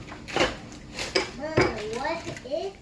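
Boiling bagels being flipped in a pot of water, with several sharp clinks and clatters of a utensil against the pot mixed with speech-like voices nearby.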